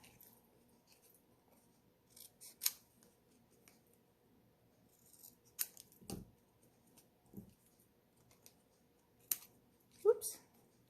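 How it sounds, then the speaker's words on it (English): Scissors trimming excess paper during card making, a few short, faint snips and clicks spread out over a quiet stretch, mixed with small handling noises and a soft voice talking. "And then we'll just snip off the excess there."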